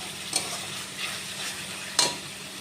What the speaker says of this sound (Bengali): এবার আমি মশলাটা কিছুক্ষণ রান্না হতে দেবো।